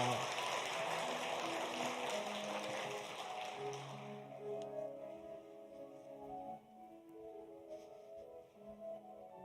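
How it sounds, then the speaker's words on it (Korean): A church congregation at a Sunday service claps together to celebrate birthdays, a few seconds of dense applause that fades as soft sustained organ or keyboard tones take over. "우리 같이 박수하면서 축하하도록 하겠습니다"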